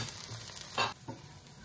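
An onion uttapam cooks on a hot pan after being flipped, giving a steady, soft sizzle with a brief louder burst of frying partway through.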